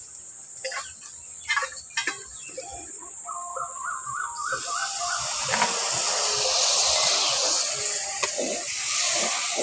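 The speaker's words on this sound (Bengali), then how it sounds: "এবার এর মধ্যে একটু অল্প করে জল দিয়ে দিই।" Water poured into spices frying with turmeric in a pan erupts into a loud, sustained sizzling hiss that swells and holds, following a few brief clatters and faint voices.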